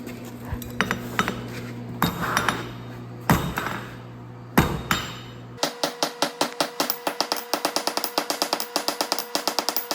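Hammer blows forging a taper in hot steel, first a few heavy irregular strikes over a machine hum, then a fast steady series of ringing hits close by.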